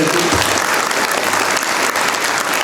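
Steady, dense applause from a crowd at an International Yoga Day event, loud and continuous throughout with no pauses.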